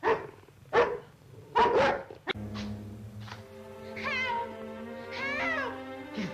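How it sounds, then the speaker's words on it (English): Dogs barking on a dark country estate where someone may be in the grounds: a few sharp, close barks spaced apart, followed by a continuous wavering, whining howl over a low steady hum. "What's the matter with the dogs?"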